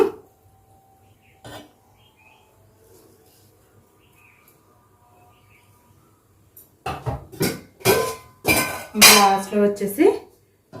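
Coriander and mint are added to a pot of chicken dum biryani: near silence, then a run of loud, close metallic clanks and scrapes of a spoon against the pot.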